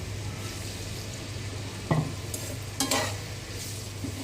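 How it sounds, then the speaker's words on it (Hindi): Potato pieces frying in about a cup of hot oil for a potato omelette, a steady close sizzle with a couple of brief scraping stirs, no voices. "आलू को फ्राई करते हैं ताकि गल जाएं।"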